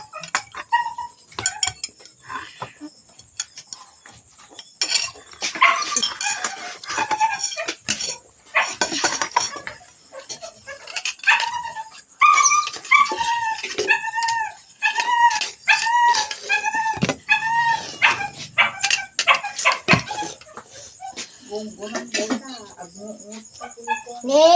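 A dog whimpers and yips in short, high, repeated cries, close by, mixed with clinking dishes and cutlery while people talk nearby.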